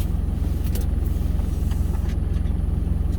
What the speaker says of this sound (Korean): 지금 시동 켜놓고 히터를 틀어놨습니다